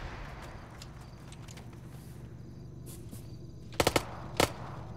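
Gunfire in a video game, attributed to a BMP or APC, with two sharp bursts near the end over constant low ambient noise and faint clicks.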